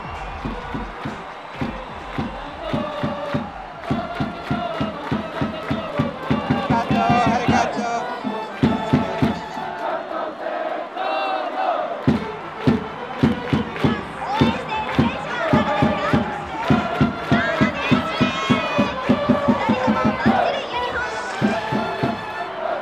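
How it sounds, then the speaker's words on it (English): Baseball fans in the Tokyo Dome stands cheer and chant in unison, with loud rhythmic pulses of clapping and voices repeating in quick bursts, a large crowd roaring on and off around them. "they're inspiring each other right here in the stands with every cheer and chant"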